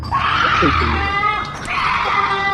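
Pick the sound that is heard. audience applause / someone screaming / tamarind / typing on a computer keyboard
someone screaming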